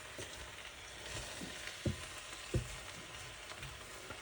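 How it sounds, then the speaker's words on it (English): Cabbage and spinach curry sizzling in a pan, with a steady soft frying hiss and two sharp scrapes as a utensil drags across the pan bottom. "I'm trying to get that stuff off the bottom because that's quite nice actually, that stuff that's fried to the bottom of the pan."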